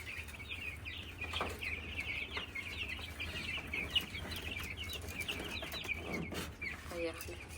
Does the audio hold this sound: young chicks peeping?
yes